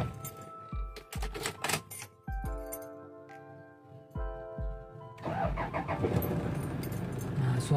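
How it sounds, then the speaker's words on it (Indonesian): A Toyota Hiace campervan converted into a motorhome starts up after several sharp clicks and clunks, then its engine settles into a smooth, steady idle heard close by. "Nah, suara mesinnya halus."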